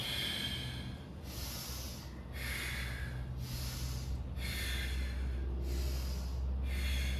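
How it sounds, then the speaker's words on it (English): Slow, deep yoga breathing drawn in through the nose and released through the mouth, steady close breaths repeating in an even rhythm over a low hum, with no talking. "Maybe you wanna breathe in through your nose, out through your mouth. Deep breath in, and pulse."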